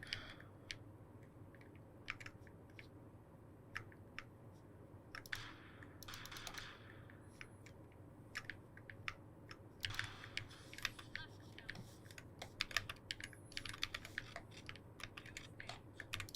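Quiet, close computer keyboard typing in irregular clattering bursts of keystrokes, with short pauses between runs and a low hum underneath.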